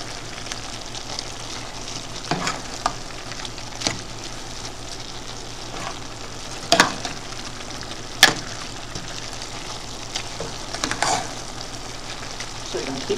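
Ground beef browns in a pan with a low steady sizzle, punctuated by occasional sharp scrapes and clacks of a utensil, moderately close with no clear talk.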